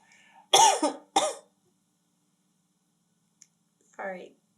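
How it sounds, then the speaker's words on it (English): A person indoors lets out two sharp, close coughs in quick succession, then a pause of near silence before a shorter rasping throat sound. "I just need to like let one cough out so I can clear my throat"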